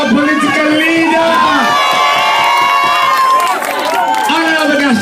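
A crowd at a political rally cheers, whoops and applauds loudly and continuously, with shouting voices rising and falling over the din.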